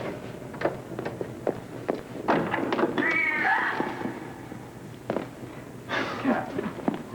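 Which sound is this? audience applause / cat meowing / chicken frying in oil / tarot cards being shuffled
cat meowing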